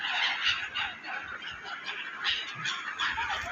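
A flock of geese honks steadily and loudly, with many overlapping calls in a continuous chorus and no talking.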